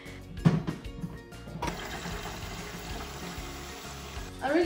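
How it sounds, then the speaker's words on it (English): Water runs and pours into a water filter dispenser in a kitchen, a steady rushing stream that starts after a few clunks and handling sounds, with a louder splash or clatter near the end. "Let's fill in some water,"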